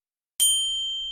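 A single bright notification bell dings once after a moment of silence, its clear metallic tone ringing out and slowly fading, sounding close and alone.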